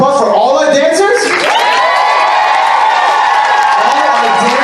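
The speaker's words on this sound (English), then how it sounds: "can we get a huge round of applause for all our dancers?" A convention crowd at a furry dance-battle event roars with cheering, shrieks and applause for the dancers, loud and sustained throughout, with a sharp rising whoop partway through.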